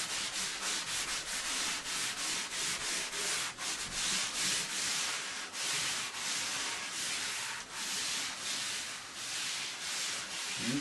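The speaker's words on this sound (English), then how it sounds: "I'm going to come back in with my eraser" An eraser rubs steadily across a white chalk drawing, producing continuous close scratchy strokes in an uneven rhythm, with no voices.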